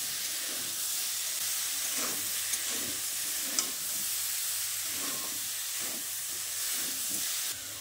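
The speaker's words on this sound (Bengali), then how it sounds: "হলুদ গুঁড়ো আর কাশ্মীরি লঙ্কাটা দিয়ে কুমড়ো আলুর সঙ্গে ভালো করে মিশিয়ে নিচ্ছি" Pumpkin and potato stirred in a hot pan with turmeric and Kashmiri chilli powder: a continuous frying sizzle and hiss with soft, regular scraping strokes and a few brief clicks, close and without voices.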